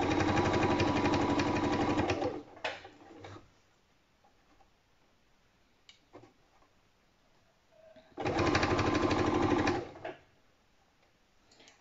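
A sewing machine stitches with white thread in two loud, steady bursts of close running, separated by a quiet pause with a few faint clicks and knocks.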